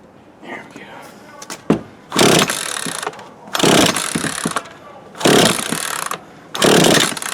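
An old Craftsman 42cc chainsaw, unstarted for years, sputters and then roars in four loud revving bursts, each dropping back to a quieter rough idle between them.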